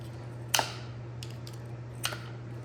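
Grapes cut with a grape cutter tool, heard as two sharp quick clicks about one and a half seconds apart, with a fainter tick between them, over a low steady hum.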